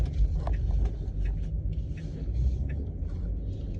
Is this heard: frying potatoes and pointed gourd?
no